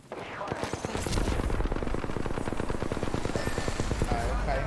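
Rapid automatic weapon fire from the Apex Legends battle royale video game rattles in a fast, steady stream of close, loud shots for several seconds.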